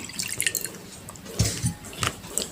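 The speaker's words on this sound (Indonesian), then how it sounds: "ini kalau udah terpisah seperti ini, buang aja airnya nih" Water is poured off settled cassava starch in a bowl, giving soft, irregular splashes and drips spread over a couple of seconds.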